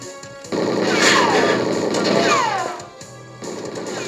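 Rapid automatic gunfire from an N64 video game played on an Analogue 3D console: a dense, continuous rattle of shots with sweeping synthetic tones, steady and loud throughout.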